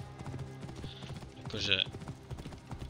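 Hooves of a mare clip-clop in Assassin's Creed Origins, a steady walking rhythm close by under someone talking, with a short bright jingle or whinny-like sound partway through.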